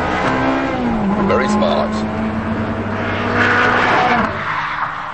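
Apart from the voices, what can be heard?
Ferrari 360 Modena V8 accelerating with paddle-shift upchanges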